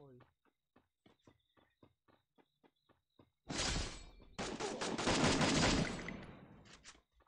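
Gunfire in the Free Fire battle royale video game during a match: sparse single shots at first, then a loud sustained burst of rapid automatic fire lasting several seconds.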